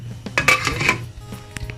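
A metal lid is set back onto a cooking pot of lomi noodles, a cluster of clanks and scraping rattles over about a second, followed by a few light taps.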